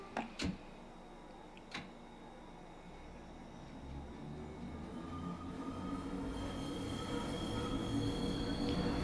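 A London Underground Bakerloo line train departs in Train Sim World 2, a low rumbling motor drone that swells as it pulls away, after a couple of sharp clunks at the start, with faint whining tones above.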